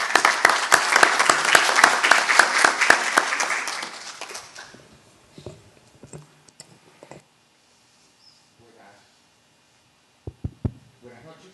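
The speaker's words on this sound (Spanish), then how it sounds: "Vamos a recibirlo con un fuerte aplauso al doctor del Río" Audience applause greets a lecturer, Dr. Gonzalo del Río, at an evening legal talk, a dense burst of clapping for about four seconds that fades out, followed by scattered clicks and small room noises.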